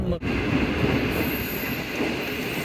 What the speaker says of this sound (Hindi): तो मुल्तान में गाड़ी अप्रोच बना चुकी है और बस एंटर होने वाली है प्लेटफॉर्म पे।